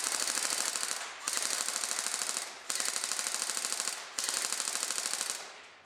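A custom G4 airsoft gun fires on full auto with its blowback working, four rapid bursts of sharp clattering shots with short gaps between them, loud and close.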